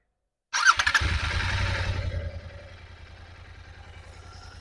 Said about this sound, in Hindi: तो हम लोग गाड़ी स्टार्ट कर रहे हैं पहले।